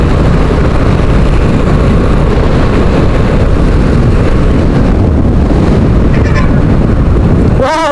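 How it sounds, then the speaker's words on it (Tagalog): Strong wind buffets the microphone on a newly opened bridge in Naga City near the train rails, a loud, continuous low roar that fills the whole stretch with no talking. "Napakalakas ng hangin."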